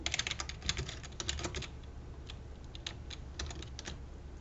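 Rapid bursts of typing on a computer keyboard, with dense clusters of key clicks early on that thin into sparser, irregular taps, close and fairly quiet with no talking.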